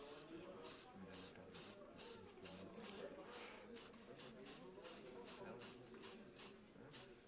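Short bursts of hairspray hiss rhythmically as a paint layer is sprayed on, about a dozen quick, fairly faint sprays in a steady pulsing pattern.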